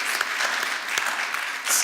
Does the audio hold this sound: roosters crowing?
no